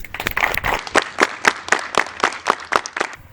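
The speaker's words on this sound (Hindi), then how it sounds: "एनिवर्सरी के लिए ढेर सारी बधाई देते हैं तालियों से" An audience at an educational tour event applauds to congratulate a couple on their anniversary, clapping in a steady, rhythmic, nearly unison beat for about three seconds, close and fairly loud.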